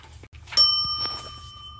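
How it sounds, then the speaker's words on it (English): A single bright bell ding marks a page turn in a Dr. Seuss audiobook reading of Mr. Brown Can Moo! Can You? It rings out once at moderate volume and then fades over about a second. "make sure you turn the page when you hear the bell"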